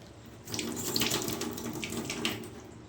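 Tap water starts after a brief pause and runs steadily into a steel kitchen sink, a close, continuous splashing gush that lasts to the end.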